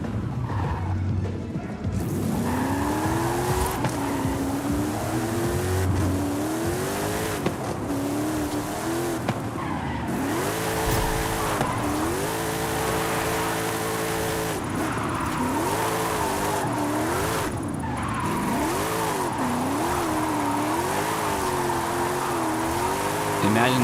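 A Mercedes drifting in Forza Horizon 5, its engine revving and wailing up and down through sustained slides with tyre squeal, loud and continuous, while someone talks over it.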